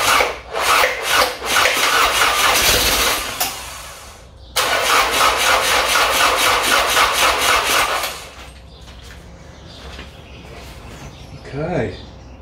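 A rebuilt 1994 Mitsubishi NJ Pajero 2.8L 4M40T diesel engine being cranked with a rapid rhythmic starter churn in two long bursts, then falling quieter into an idle with brief voices nearby.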